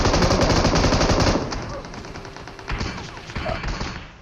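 Rapid automatic gunfire from PUBG Mobile rattles loudly in a dense burst, then gives way to sparser, scattered shots and softer thumps.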